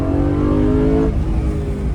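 A BMW M3 E92 with its naturally aspirated high-revving engine pulls hard in second gear, a loud close rising wail that cuts off abruptly after about a second into a lower rumble.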